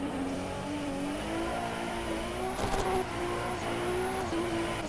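A car slides through a drift in Assetto Corsa Evo, its engine droning in a steady rising and falling note with a faint tire hiss and a brief rougher burst midway, no voices present.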